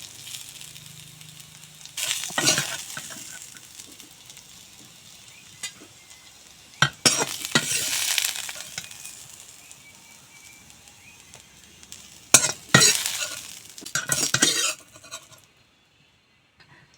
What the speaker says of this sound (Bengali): আবারও কড়াইতে অল্প তেল দিয়েছি ভেন্ডি বাজার জন্য